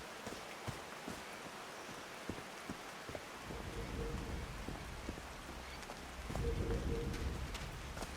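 Steady rain falls in the game Call of the Sea, a dense hiss of drops on surfaces that grows heavier and louder partway through, with a few distinct drips and a low rumble beneath.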